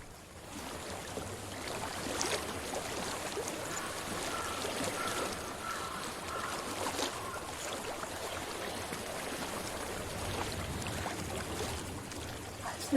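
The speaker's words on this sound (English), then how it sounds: "I hear water. Go to it." Steady flowing water runs through a forest scene in Hellblade: Senua's Sacrifice, a continuous rushing stream with faint splashy texture, even in level and with no talk over it.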